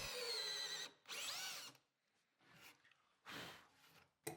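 A core drill whines in several separate bursts with short pauses between, boring into tightly packed timber around a boat shaft, close and fairly loud, the pitch rising and falling as it bores.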